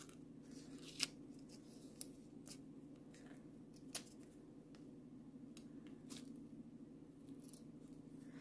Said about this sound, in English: let's cut this off, hopefully without cutting any of the inside stuff